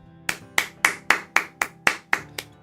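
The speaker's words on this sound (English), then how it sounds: "A round of applause for my Lord Verme, as promised." A single person claps slowly and steadily, about nine crisp, evenly spaced claps, close and clear, during a live forex trading stream.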